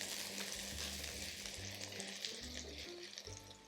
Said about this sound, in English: I'm just going to saute this for a few seconds just to help to release some of the flavors